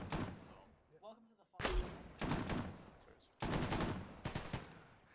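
An assault rifle fires in a Black Hawk Down-themed video game, with several loud, close bursts of rapid shots separated by brief pauses. A voice speaks just before the first burst.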